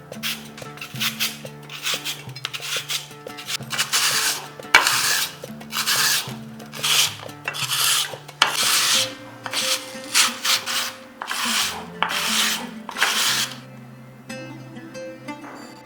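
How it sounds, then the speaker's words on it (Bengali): Raw potato rasped on a coarse, large-holed hand grater into long, thick shreds, a steady series of loud scraping strokes close by with short pauses between them. "দেখুন এইভাবে লম্বা আর একটু মোটা রেখে গ্রেট করে নিয়েছি।"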